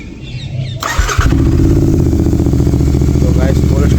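A Royal Enfield Interceptor 650 motorcycle engine cranks and fires about a second in, then settles into a loud, close, steady throbbing idle.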